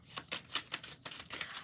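Tarot cards are shuffled by hand, a quick run of about eight crisp riffling bursts in steady rhythm, close and quiet, with no talking.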